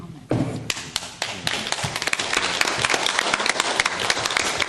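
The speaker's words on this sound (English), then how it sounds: "let's not hold off with the clapping" Applause starts abruptly and swells into dense clapping from a crowd, with sharp individual claps standing out near the front and a voice underneath.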